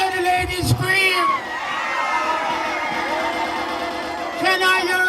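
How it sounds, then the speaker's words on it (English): A crowd of women cheering and screaming at a live Gregory Isaacs celebration at Kingston Night Market, with a steady loud roar of voices, whoops and shouts that swells at the start and end. "Can I hear the ladies scream?"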